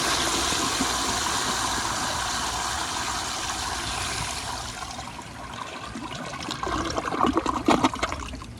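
A 1998 American Standard Cadet toilet on a flushometer valve flushing: a loud, close, sustained rush of water that later turns into gurgling and swirling as the bowl drains, with no talk.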